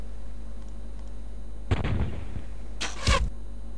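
Cannon fire in the Svea Rike II video game: two loud, close blasts about a second apart, the second with a quick double crack, set against a low, steady hum and no talking.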